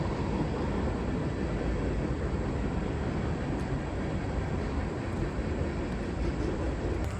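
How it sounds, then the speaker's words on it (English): Train passing by outdoors, a continuous broad rumble and rush that stays at a steady, moderate level without clear peaks, with no talking. "there's a train going by"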